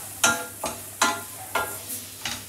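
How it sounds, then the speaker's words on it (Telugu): Cashews are stirred in a hot pan while cooking paneer butter masala: about five quiet, rhythmic scraping strokes, each with a soft sizzle from the pan. "సో కొంచెం క్యాష్యూస్ అయితే వేస్తున్నాను."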